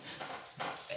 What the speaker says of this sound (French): Ma petite chienne qui m'emmerde. Qui demande trop de câlins.